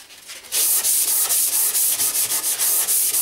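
Steady rhythmic sanding of wood with 120 grit sandpaper after cabinet scraping, a loud close hiss pulsing with each back-and-forth stroke and no voice over it.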